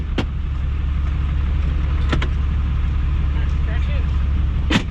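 A truck engine drones loud and steady at close range during a parking brake check at a DOT inspection, with a few sharp clicks and brief voices over the rumble.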